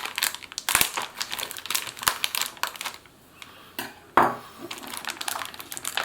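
Knife cutting open plastic MRE ration packaging: close, crisp crinkling and rustling with rhythmic scraping pulls, a brief lull, then another sharp tear and more crackle.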